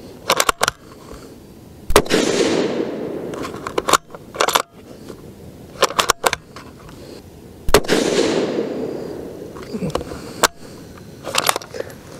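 A Ruger American Predator Gen 2 .223 rifle firing Federal ammunition outdoors: loud, sharp single reports spaced several seconds apart, each trailing into a rolling echo, with handling clicks between.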